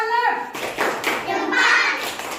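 Children in a classroom clap together in a brief, rhythmic round of hand claps, mixed with their own excited voices chanting along at close range.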